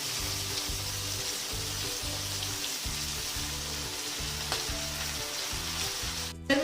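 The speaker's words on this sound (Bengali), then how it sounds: "চাইনিজ রান্না সবসময় এইভাবেই হাই ফ্লেমে রেখে ঝটাপট করতে হয়। এবার নুডলসগুলো দিয়ে দিচ্ছি।" Egg chow mein noodles stir-fry over high flame with a loud, constant crackling sizzle, a low rhythmic hum pulsing underneath, and a sharp clank of the pan near the end.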